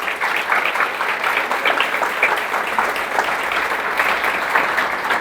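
A church congregation gives steady, even applause, a continuous wash of many hands clapping at constant volume, with no voices standing out.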